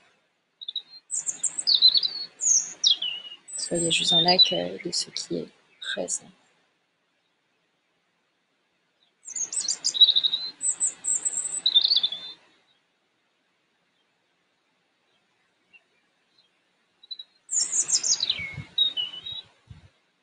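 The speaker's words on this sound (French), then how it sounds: "le son du chant des oiseaux que vous percevez au travers de ceux qui sont autour de moi" Birds chirp and trill all around a calm voice leading a guided meditation, their calls arriving in short bright bursts with quiet gaps between them.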